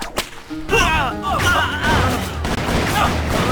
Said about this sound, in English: gunfire has a big oomph to it